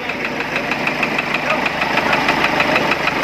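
A Hyundai Tucson diesel engine idles right after starting, a steady close-up rattling clatter with rhythmic knocking pulses, loud and even throughout.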